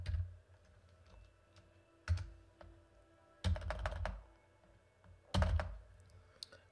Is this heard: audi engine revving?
no